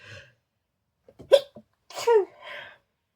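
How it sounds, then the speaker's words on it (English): A quick sharp sneeze bursts out, followed by a breathy vocal sound, faint and close, with short silences in between. "I'm going to sneeze."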